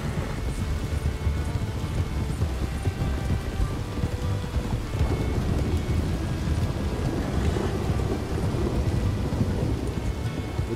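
A video game thunderstorm: heavy, steady rain pours on surfaces while deep thunder rumbles roll through, dense and constant with no voices.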